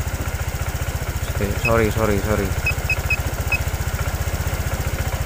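Honda Vario 125 scooter engine idling steadily up close, then revved hard to high RPM and dropping back, with a brief spoken word over the rising engine.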